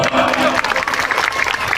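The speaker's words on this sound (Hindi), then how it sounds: "तो अपने भाई के लिए ताली तो बजा दो" A crowd at a Chhath festival gathering claps loudly and continuously in a dense, close burst of applause, with some voices mixed in.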